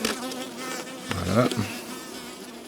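Honeybees buzz steadily around a hive box near a recovery nest, with a close, continuous insect drone, while someone speaks briefly in French over it.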